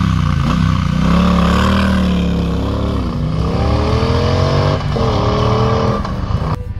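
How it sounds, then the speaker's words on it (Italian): A 2017 Triumph Bobber motorcycle pulling away from a roadside lay-by at low speed: a loud, close, steady engine drone with gear-linked pitch rises and dips, running continuously without any voices. "iniziamo il nostro giro, usciamo da questa piazzola con la nostra Bobber"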